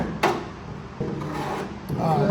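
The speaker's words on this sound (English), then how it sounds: "I'm just scraping to make it look busy" A part of a cheap off-road car build scraped by hand: a few short, faint rasping scrapes at irregular intervals over quiet workshop background.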